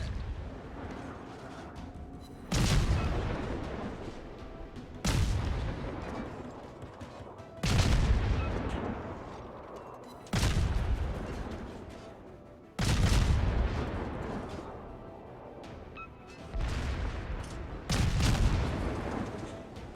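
Naval gun salvos from a Tier V Soviet destroyer, the Gnevny, in World of Warships: seven loud booming shots at roughly even intervals of about two and a half seconds, each with a sharp attack and a long rumbling decay, with no talk.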